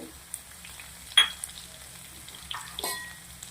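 Crushed garlic frying in hot oil with a faint, low sizzle, and several sharp clicks and scrapes from a spoon against the pan.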